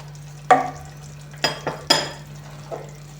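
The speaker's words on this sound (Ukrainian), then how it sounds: "Перемішую і тушу дві хвилинки." Eggplant with a pepper mix being stirred and stewed in a pan, heard as a few distinct scraping clatters of a utensil against the pan with a faint sizzle beneath, close and alone.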